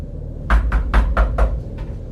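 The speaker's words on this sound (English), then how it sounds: "When they knocked a second time" Five firm knocks on a wooden bedroom door, evenly spaced and close, sounding alone without any voices.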